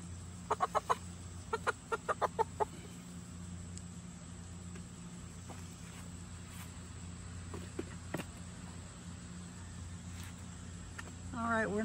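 A rooster being readied for processing with a homemade killing cone clucks in short bursts near the start, a quick run of sharp calls followed by scattered softer clucks over steady background hum and faint voices.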